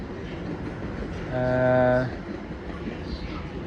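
Class 701 train 701006 in Great British Railways livery passes at Clapham Junction, giving a brief, swelling two-tone horn-like hoot over a constant rumble of rail noise, with a person talking nearby.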